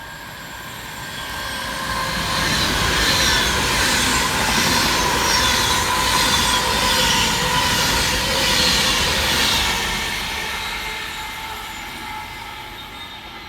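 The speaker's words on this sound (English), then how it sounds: "Next making its way through the station is 390-005, working 1H63 for Avanti West Coast" Avanti West Coast electric unit 390-005, running from London Euston to Manchester Piccadilly, passes through Heaton Chapel station with a steady, building rush of wheels and rail noise that peaks mid-pass, then fades away.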